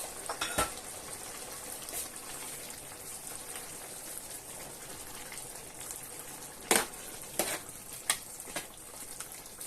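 Zucchini caviar with pepper and homemade tomato paste is stirred in a pot: a quiet bubbling, sizzling bed of noise broken by a few sharp clinks and scrapes of a utensil against the pot, mostly toward the end.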